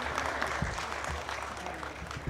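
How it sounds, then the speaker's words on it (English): Steady applause from a crowd at a Holstein cow show, with dense clapping holding at an even level for a couple of seconds. "I think another round of applause is in order for this group of cows."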